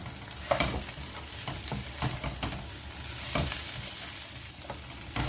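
Chilli chicken fry being stirred in a pan with curry leaves and coriander, a steady sizzle broken by repeated scraping stirs at an uneven rhythm, close and fairly loud, with no talking.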